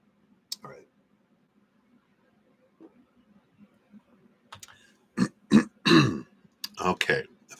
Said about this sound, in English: while I clear my throat